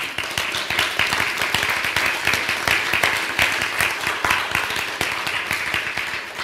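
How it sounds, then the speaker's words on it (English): An audience at an artist talk claps steadily for several seconds, a dense, even wash of applause filling the room with no pauses. "A big applause."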